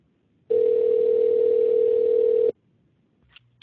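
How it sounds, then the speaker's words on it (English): A single steady telephone tone on an outgoing call, marked as a busy signal, sounds loud and close for about two seconds, then cuts off abruptly. A brief faint click follows near the end. "I'm going to mark this as busy signal"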